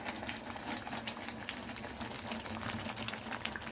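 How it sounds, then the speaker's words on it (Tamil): Thick pizza sauce bubbling and popping steadily in a pan, a dense continuous burble with no voices. "இதுமாரி கொதிக்க சொல்ல நம்ம தொழி கொடுத்துக்கினே இருக்கணும்."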